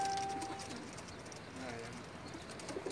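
Soft cooing of Sialkoti pigeons at a rooftop loft in Jeddah, Saudi Arabia, faint and somewhat distant with a few brief calls, under a low hum of background noise and quiet voices.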